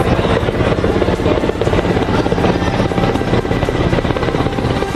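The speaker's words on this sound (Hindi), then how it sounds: "इंडियन आर्मी के MI-17 हेलीकॉप्टर ने झांसी के आसमान में उड़ान भरी" An Indian Army Mi-17 helicopter flies over Jhansi, its rotor and turbine roar loud, steady and close, filling the air without pause.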